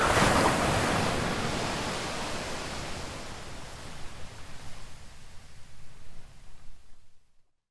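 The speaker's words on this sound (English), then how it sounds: "she hears once more the sound of crashing waves" Ocean waves crash and wash in a dense, steady roar of surf that slowly fades into gentler, rippling swells before dying away, with no voices.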